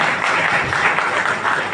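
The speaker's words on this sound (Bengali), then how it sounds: "জোরে একটা হাততালি চাই" A seminar audience in a Dhaka auditorium claps loudly, a dense, continuous burst of applause filling the room without pause.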